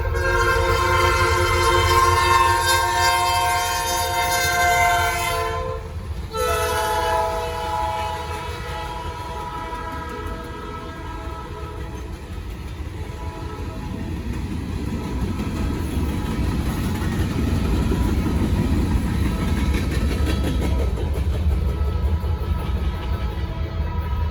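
Southbound Norfolk Southern freight train in Gaffney, South Carolina, a loud horn blast with a short pause, then a steady heavy rumble of rolling cars that swells again toward the end.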